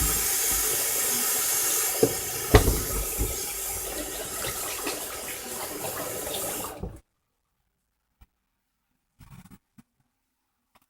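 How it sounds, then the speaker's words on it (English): A kitchen tap runs steadily while hands are washed, with a few splashes and knocks in the stream. It is close and moderately loud, then cuts off abruptly after about seven seconds, leaving near silence with faint small clicks. "Wash my hands."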